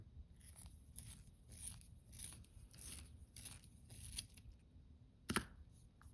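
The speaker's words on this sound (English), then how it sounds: "I'm gonna try a different sharpener though." Pencil being sharpened in a Staedtler sharpener, with a series of short, close, scratchy grinding bursts in an uneven rhythm and a sharper crack near the end.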